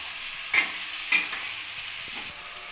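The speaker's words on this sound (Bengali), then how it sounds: "পেঁয়াজের সাথে আমি টমেটোটাকেও ভেজে নেবো ভালোভাবে।" Onions and tomatoes fry in a wok with a steady, bright sizzle, broken by two sharp scraping clatters as a spatula stirs them, close and without talk.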